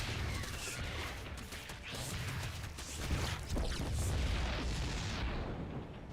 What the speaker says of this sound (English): It's taking one extra cannon shot.